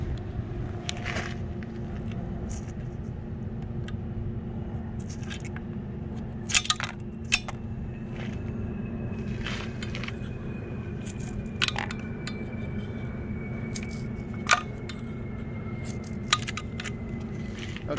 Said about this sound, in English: Let's remove the wheel weights.